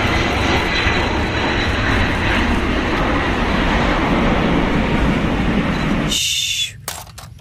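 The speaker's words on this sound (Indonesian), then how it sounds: "kalau yang ini pesawat penumpang Saudi Arabian" A Saudi Arabian passenger airliner passes overhead with a loud, steady jet roar that fills the air. It cuts off sharply near the end, leaving a few faint scrapes.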